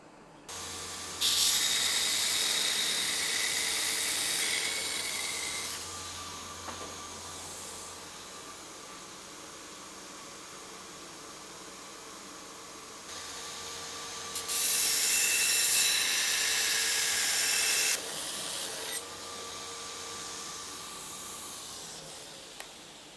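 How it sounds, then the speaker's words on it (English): A knifemaker's belt grinder runs in two loud bursts of about four seconds each, a bright hissing, rasping grind against the abrasive belt, with a quieter motor hum carrying on between the bursts. "So altogether, my belt grinder, absolutely awesome bit of kit."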